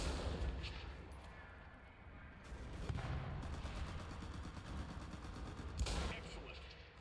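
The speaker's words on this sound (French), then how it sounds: "Ça résonne quand on tire à l'intérieur." Gunshots fired indoors in the WWII shooter game Enlisted, heard faintly as rapid echoing bursts with a reverberant tail, a steady string of shots in the middle and a louder crack near the end.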